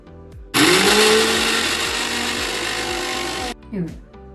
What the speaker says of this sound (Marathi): त्यामध्ये लसूण आणि मिरची आपण बारीक करून घेऊया